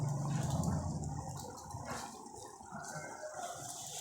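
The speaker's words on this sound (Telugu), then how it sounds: "ఇలా వాటర్ మరుగుతూ ఉండగా" Water simmers and bubbles in a covered pot while chicken semiya cooks. It makes a steady watery hiss with a gentle burble, fairly quiet, and nobody talks over it.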